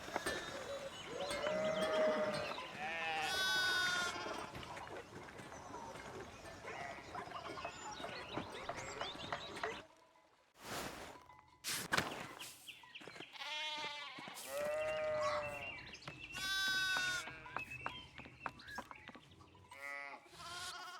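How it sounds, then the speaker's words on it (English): Sheep in the video game Pentiment, repeated bleats from several animals overlapping throughout, loud and near, with a brief lull midway before more bleating resumes. "why are there so many sheep?"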